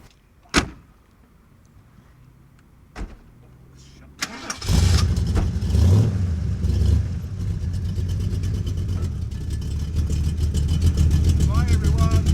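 A&M EX2 kit car starts up after a few door thumps, its engine rising to a steady loud running noise that continues as it pulls away, with no talk over it.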